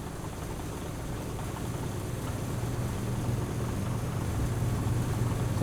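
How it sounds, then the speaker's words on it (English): A vehicle engine runs in the Fallout 4 video game with the Sim Settlements mod, a steady low rumble that holds level throughout with no talking. "Sounds like the engine's running in that."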